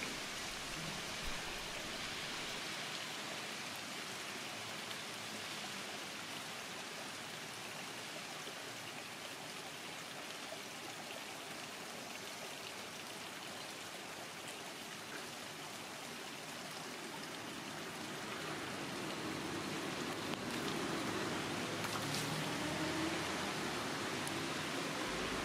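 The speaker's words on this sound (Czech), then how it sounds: "se zde hned za branou Tori nachází pramen čisté vody, ve kterém právě provádíme naši rituální očistu" Clean spring water trickles steadily at a Japanese shrine just past the torii gate during ritual purification, a continuous bright wash of flowing water, close and even, swelling a little louder toward the end, with no voices.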